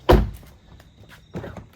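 A Tesla car door shuts with one firm, close thunk near the start, followed by fainter handling sounds and a softer knock about a second later.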